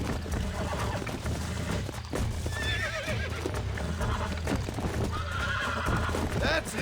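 A horse whinnies and hooves clip-clop at a gallop in Red Dead Redemption, close and prominent over a dense game soundscape with music, with a second neigh near the end.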